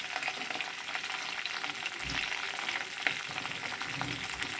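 Ginger pieces, green chilies and dried red chilies fry in hot oil in a pan for a village-style tomato and dosakaya pachadi, giving a steady, close, even sizzle with no voices over it.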